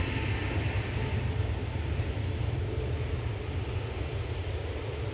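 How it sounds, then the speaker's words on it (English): A twenty-year-old Airbus A320 in Irish rugby team livery, Flight 202 from Dublin, crosses the runway threshold at Manchester Airport to land, its engines giving a steady, broad roar with a low rumble, close and unbroken throughout. "It's a 20-year-old A320 about to touch down."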